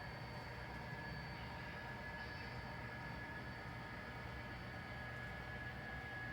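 An N scale model rock train of seventeen cars running along its track, producing a faint steady rolling whir with a thin high whine, continuous and unbroken with no talk.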